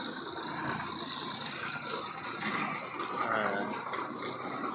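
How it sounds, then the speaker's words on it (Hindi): A farm tractor arriving in a village field in Aravalli, Gujarat during the groundnut harvest, its engine giving a steady, loose mechanical rattle close by that carries throughout without speech. "ये ट्रैक्टर आ गया है, आपको दिखा देता हूँ थोड़ा सा।"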